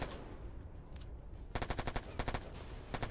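Bursts of machine gun fire in the Warfare Online war game, a quiet stretch with a couple of faint shots and then rapid, loud automatic volleys repeating in quick clusters.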